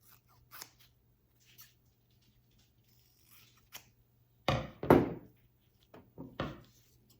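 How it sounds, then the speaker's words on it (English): Scissors trim the edges of sewn fabric for a range bag, a few quiet snips early, then louder, close crisp cuts clustered near the middle and end, with no talking. "So now I'm just going to go ahead and trim my edges."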